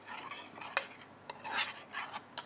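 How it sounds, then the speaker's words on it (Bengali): A spatula scrapes and stirs spices being sautéed in a pan for a kakrol kalia, soft rasping strokes with a few light metallic clicks, quiet and close with no voices. "এখন তো মশলার যে পরিমাণ আছে সেগুলো হচ্ছে আমাদের কষাতে হচ্ছে"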